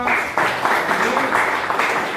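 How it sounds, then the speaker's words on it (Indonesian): A crowd applauding steadily, with dense clapping that swells in several waves and stays loud throughout. "tepuk tangan untuk Najwa"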